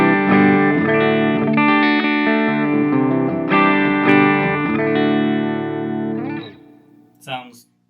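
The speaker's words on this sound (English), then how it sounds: "So anyways, here's a bridge pickup with some chords." Clean electric guitar chords on the bridge pickup, played through a KMA Machines Endgame pedal, ring out in a steady strummed sequence before fading, with a brief scratchy noise at the end; no talking.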